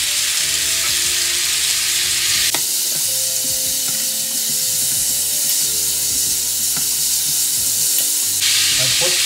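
Carrot and potato pieces stir-fry in a hot pan with a continuous loud sizzle and hiss, broken by scraping stirs every few seconds, with no talking.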